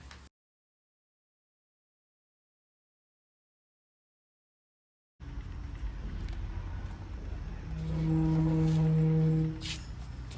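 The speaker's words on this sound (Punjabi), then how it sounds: "ਉਹ ਨਾ ਗੱਡੀ ਦੀ ਆਵਾਜ਼ ਜੀ ਆਈ ਸੀਗੀ" A car arrives outside a house: after a stretch of silence, a steady low engine and road rumble rises, swelling louder with a brief humming tone near the end, then easing off.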